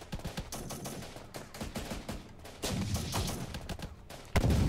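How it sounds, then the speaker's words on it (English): Battle gunfire from the video game Syrian Warfare, with ISIS fighters shooting: dense, continuous bursts of rifle and machine-gun fire with heavy low booms, loud and unbroken with no talking. "we've still got ISIS fire from over this area"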